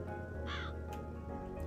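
Crows caw in the video game Calico, a single harsh call standing out clearly over a steady musical and ambient game background, with fainter calls following.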